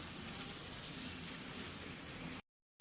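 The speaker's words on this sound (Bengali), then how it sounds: "আর পেঁয়াজটা ভেজে নিচ্ছি।" Onion fries in hot oil with a soft, steady sizzle and faint crackle that runs evenly, then cuts off abruptly into silence near the end.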